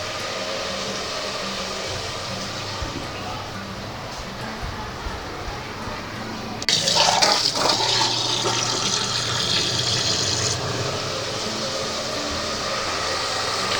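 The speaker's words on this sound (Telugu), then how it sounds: "ఆ 4 గ్లాసెస్ వాటర్ అనేది దాంట్లో ఇప్పుడు పోసుకుందాం." Water pouring into a pot of tomato biryani, a steady rushing splash that grows louder midway and keeps flowing over a constant kitchen background hum.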